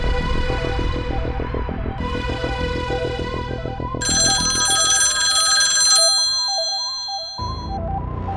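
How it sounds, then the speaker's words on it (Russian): A telephone rings with a repeating electronic bell pattern in regular bursts, loud and close, the tone shifting brighter partway through, over a tense musical backdrop in a film trailer. "Рустам Фазлидинович, телефонге."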